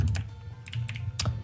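Clicky computer keyboard keys struck in short irregular bursts during a Minecraft Hunger Games deathmatch, close and crisp over a low steady hum.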